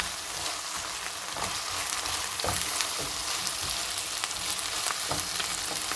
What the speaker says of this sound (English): This is when I'm going to add my ginger paste, and I'll give it a nice stir.